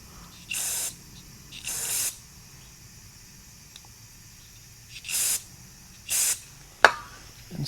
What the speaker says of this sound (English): We're going to Carb Clean it off. Carb Clean the inside.